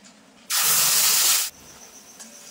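Spice paste with asafoetida hits hot oil for Niramish Kashmiri aloo dum, giving one loud, sharp sizzling burst of about a second that cuts off abruptly into a quieter hiss.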